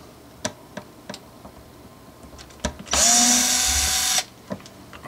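A power driver runs a guitar pickup screw, giving one loud whirring burst of about a second, surrounded by small clicks and handling ticks close by.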